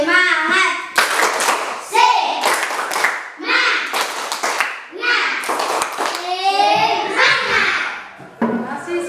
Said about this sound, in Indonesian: Ya, kita tepuk tangan karena semua semangat.